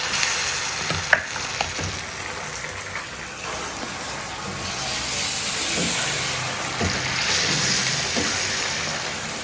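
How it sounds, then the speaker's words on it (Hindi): Steady hot-ghee sizzling as mustard greens are tempered and stirred in a pan, with occasional clinks and scrapes, fairly close and continuous throughout. "पहले साग को तड़का लगाती हूँ"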